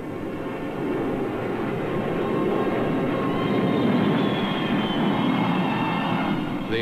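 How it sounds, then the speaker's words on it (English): Military aircraft heading back to base produce a broad, steady roar of distant jet engines that swells slightly and holds, with no voices. "The alert is over and the aircraft return to their bases."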